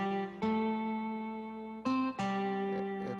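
Keyboard plays the bridge of a song in a sustained, organ-like tone, three held chords changing at clear points, close and steady with no voices.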